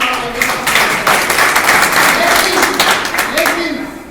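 Audience clapping and applause at a talk, a steady dense patter of many hands sustained throughout, loud and close.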